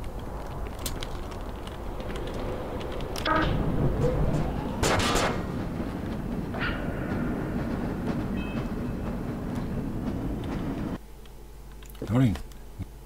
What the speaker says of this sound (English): Oh well, on with the train.